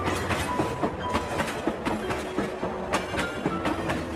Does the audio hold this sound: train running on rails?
yes